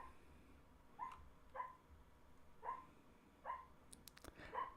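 A dreaming dog gives five soft, muffled woofs mixed with faint whimpers, spaced about a second apart in a quiet room, with a few light clicks near the end.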